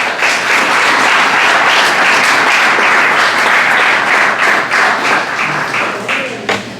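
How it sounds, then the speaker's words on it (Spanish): A church congregation breaks into a strong round of applause, dense steady clapping that holds for several seconds before thinning out toward the end. "Dale un fuerte aplauso al Señor."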